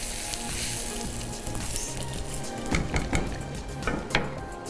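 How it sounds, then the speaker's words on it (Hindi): Hot butter tadka poured over chicken gravy in a pan gives a steady frying sizzle, with a few sharp clinks of a utensil against the pan toward the end; nobody speaks. "ये बन गया है तड़का और ये अब जाएगा हमारी ग्रेवी के ऊपर।"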